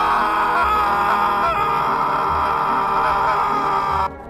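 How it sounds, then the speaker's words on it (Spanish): A drawn-out, horrible scream rings loud and continuous for about four seconds in a horror story, wavering and strained before cutting off abruptly near the end. "Escucharon el grito más horrible que jamás hayan escuchado en sus vidas"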